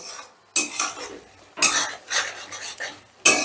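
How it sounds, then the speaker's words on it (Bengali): A spoon scrapes and stirs masala frying in a pan for rui fish curry, loud bursts of metallic scraping in three strokes with a soft sizzle between them. "এবার গ্যাসের আঁচটা বাড়িয়ে দিয়ে আমি মশলাটা বেশ ভালো করে কষে নেব"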